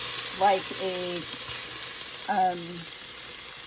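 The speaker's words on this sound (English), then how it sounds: "You're going to hear them sizzle, and then it's going to start smoking." Vegetables sizzle in a screaming hot pan, a steady, bright frying hiss that runs the whole time under a person's intermittent speech.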